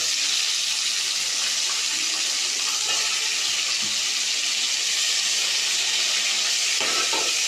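Chopped tomatoes sauté in a pan for village-style fish kuzhambu, a steady broadband hiss of frying with occasional stirring scrapes, close and even throughout.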